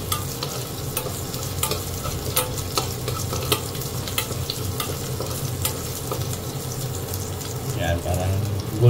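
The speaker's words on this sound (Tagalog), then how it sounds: "Palapasin mo natin yung aroma ng bawang." Garlic frying in oil in a home kitchen, a steady close sizzle with scattered pops and stirring clicks, a voice talking intermittently over it.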